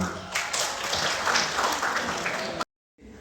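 Audience applause for the MC at a gathering of West Java provincial protocol officers, a dense burst of many hands clapping for over two seconds, then cut off abruptly, followed by quieter room noise.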